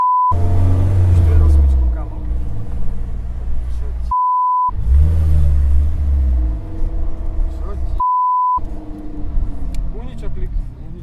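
An Audi R8 sports car on the street, its engine growling and revving in loud, deep bursts close by, broken by short censor beeps, with people talking excitedly over the car throughout.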